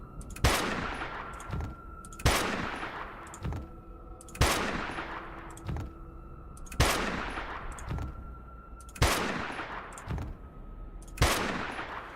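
Bursts of gunfire in the post-apocalyptic trading game Dustland Delivery, loud sharp volleys repeating roughly every second or two, each a short cluster of shots with a tonal hum holding between them.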